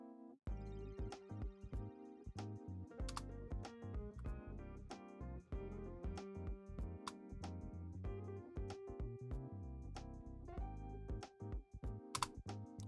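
Keys pressed on a computer keyboard during a Blender modeling session: sparse, close clicks scattered irregularly over a backdrop of steady soft music.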